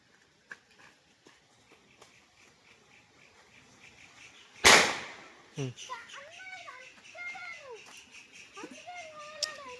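A single sharp bang of a Diwali firecracker bursts out midway, loud and close, with children's voices chattering and calling before and after it.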